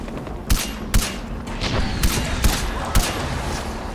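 Gunfire in the video game Far Cry 4: six sharp shots spaced roughly half a second apart, loud and close over a constant rumbling background.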